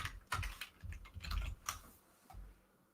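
Quick run of keystrokes on a computer keyboard while editing an HTML file, light close clicks tapping in short clusters and then trailing off.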